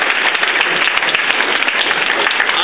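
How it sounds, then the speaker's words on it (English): Audience applause at a Calgary PC leadership candidates forum, a steady, loud wash of many hands clapping together, sustained and dense throughout with no voices. "He deserves a special round of applause for that."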